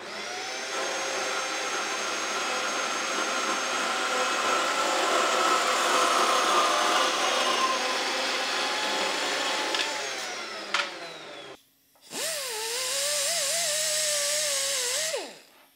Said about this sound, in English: we got to remove this pin by pushing it out with a press